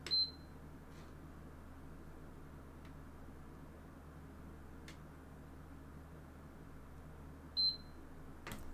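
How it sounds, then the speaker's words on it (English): Two short high-pitched electronic beeps from a PS5 console, one at the start and another several seconds later, each clear against a quiet background hiss. "keep your finger on it until you hear two beeps like this"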